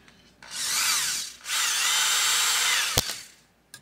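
Power drill spinning to twist wires for a Fender 5E3 Tweed Deluxe clone amplifier build, two loud sustained whirring bursts up close, with a sharp click and a brief clatter near the end.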